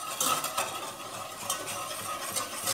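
A spoon stirs a butter and flour roux for béchamel in a pan, making soft scraping and rhythmic stirring sounds over a light sizzle, with no voices.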